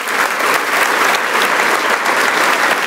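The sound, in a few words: church congregation applause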